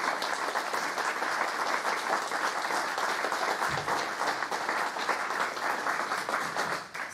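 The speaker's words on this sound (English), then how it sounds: "a huge round of applause for our guest of honor" Audience at BristolCon, a live convention event, applauding its guest of honor: dense, steady clapping from a large crowd that holds strong for about seven seconds before tapering at the end.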